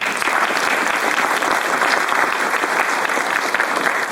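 An audience claps steadily and loudly throughout, a dense even wash of applause from a crowd at a talk event.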